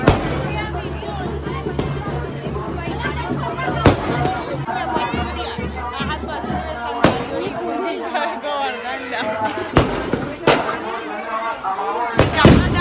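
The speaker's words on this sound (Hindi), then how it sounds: "मोर जगह मस्त आतिश बाजी" Sharp fireworks bangs burst at intervals over a steady murmur of crowd chatter at a Govardhan Puja celebration in India, some blasts loud and close, others fainter.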